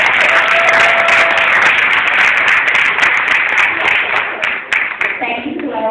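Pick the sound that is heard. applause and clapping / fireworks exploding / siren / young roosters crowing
applause and clapping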